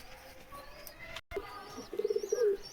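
A Madras pigeon gives a short, soft run of rhythmic coos near the end, close and fairly quiet, following faint chirps and a brief gap of silence.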